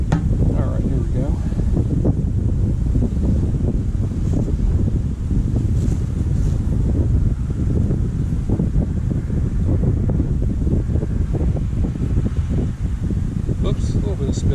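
Gusty wind buffets the microphone outdoors in steady low rumbling waves during lawn tractor winter storage work, with a voice speaking over it throughout the clip.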